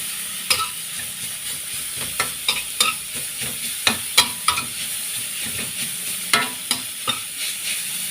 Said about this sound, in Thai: ผัดไปเรื่อยๆ จน หัวเชโปกระเทียมหอมดีนะคะ